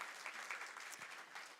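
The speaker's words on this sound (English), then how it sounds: "So a massive round of applause for Chloe Vasani." Audience applause for a young musician after an Indian classical music performance with tabla, a steady faint wash of many hands clapping in a hall, with a voice briefly audible underneath.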